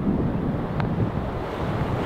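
Steady wind blows across an open golf course at Ashburnham Golf Club, roaring against the microphone as a continuous low rush with no talk.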